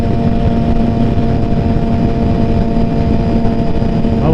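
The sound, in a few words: motorcycles riding on the freeway at bike night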